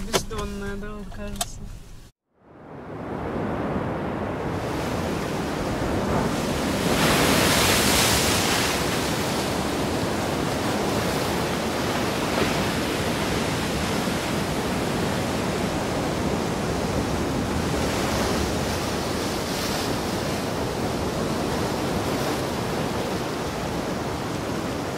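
Steady roaring wind and heavy winter storm surf on the west coast of Crimea blend into one loud, unbroken rush, with a brief sharp dropout near the start.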